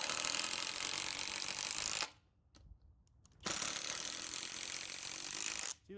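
A Skil brushless impact driver and a Ridgid Octane impact driver driving bolts, loud rattling hammering bursts that stop briefly for about a second and a half, then resume steadily.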